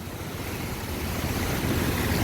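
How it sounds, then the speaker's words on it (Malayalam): The flooded Bharathappuzha river's rushing current, striking the pillars of an old bridge, makes a dense, constant roar that builds slightly, with wind buffeting the microphone and no voices. "ഇവിടെ അതിഗംഭീരമായ കുത്തൊഴുക്കാണ് വെള്ളം."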